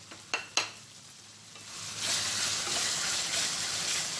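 Chopped onions sizzle and fry in a hot pan while being stirred for Bombay chutney, a gram flour dish; two sharp clinks come first, then a steady, loud, close sizzle.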